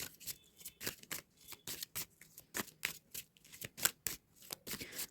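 Tarot cards being shuffled and drawn for a love-life reading, a quick run of crisp riffling and flicking bursts in an uneven rhythm, close up and fairly quiet, with no talking.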